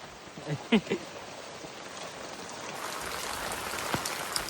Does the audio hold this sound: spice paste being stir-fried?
no